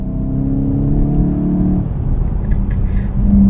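Volkswagen Golf engine in sport mode, a steady close droning note that drops into a lower rumble partway through, heard from inside the car with no talk.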